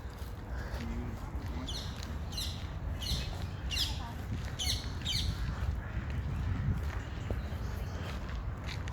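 Parrots squawk near an aviary in a palace park, a series of sharp, fairly faint calls in a cluster of bursts, over footsteps and a quiet outdoor background.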